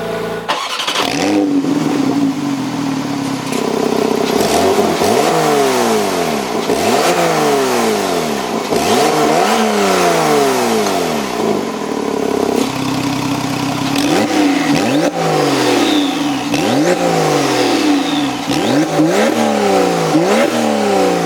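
A 2018 Porsche 911 T engine cranks and starts, then goes through a series of throttle blips whose revs rise and fall again and again, loud and close, with no talk.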